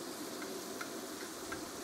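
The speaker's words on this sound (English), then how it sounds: "We have it sizzling right over here to the side" Meat sizzles on a discada cooking disc outdoors, a steady, even crackling hiss that stays moderately quiet and continuous, with no voices.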